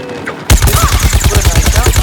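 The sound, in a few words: american football balls thrown, Plants vs Zombies Garden Warfare video game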